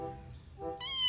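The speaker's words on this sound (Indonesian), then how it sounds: "Oh, kucing teman-teman." A cat meows, with a short call followed by a brighter, rising meow, fairly close and with no talking.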